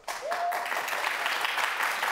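Studio audience applause on a Turkish daytime talk show, a dense continuous wash of clapping from a crowd that starts abruptly and holds steady throughout.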